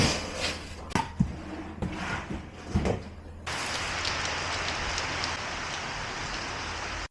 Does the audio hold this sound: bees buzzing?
no